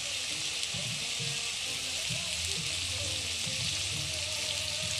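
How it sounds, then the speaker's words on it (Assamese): Chicken meat sizzling loudly and continuously as it fries in a pan, with a steady hiss throughout and soft rhythmic scrapes from stirring underneath. "এতিয়া মাংসখিনি ধুনীয়াকৈ লৰাই লৈছোঁ।"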